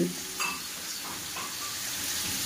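Chicken and potatoes fry in a pan on a home stove, giving a steady, moderate sizzle with faint scraping touches near the start and no talk.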